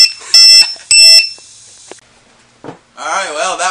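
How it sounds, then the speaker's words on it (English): A low-voltage buzzer on a 2-cell LiPo battery in an RC car sounds two loud, shrill electronic beeps close by. After a pause, a voice begins talking. "drained that battery all the way down until the buzzer went off"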